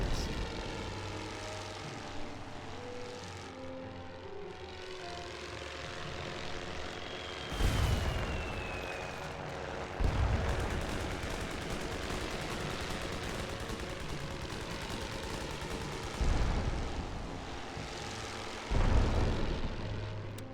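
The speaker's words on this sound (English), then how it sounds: "That's a harassment mission. They fly in and just strafe the men with their machine guns." Aircraft strafing soldiers in The Great War: Western Front video game: a droning propeller engine hums throughout while several sharp bursts of machine-gun fire crack out at irregular intervals.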